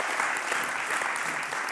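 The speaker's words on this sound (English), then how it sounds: "Yes, applause." An audience at a data visualization talk claps in a steady, even round of applause that lasts the whole moment.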